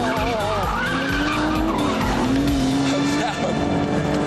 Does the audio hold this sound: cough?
no